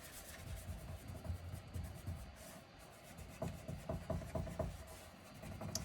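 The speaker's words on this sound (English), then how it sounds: "I'm just gonna burnish the edges, especially on dark colors." Painted edges of a dresser being burnished by hand, a soft, close rubbing against wood that comes in quiet, uneven passes, with a run of quicker, rhythmic strokes toward the end.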